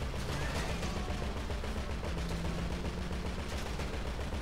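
Sustained automatic gunfire in a GTA Online heist, dense rapid bursts of machine-gun shots filling the whole stretch at a steady, loud level with no talk.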